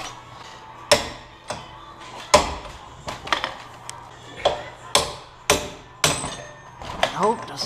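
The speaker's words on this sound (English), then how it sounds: "Want to just grab this wrench and whack it with a hammer?" Hammer whacking a wrench on a car wheel bearing, a series of about a dozen sharp metallic strikes at uneven intervals, close and loud, with quiet gaps between.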